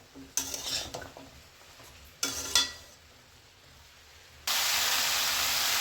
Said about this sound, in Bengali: সবজিগুলো একটু নেড়ে দিচ্ছি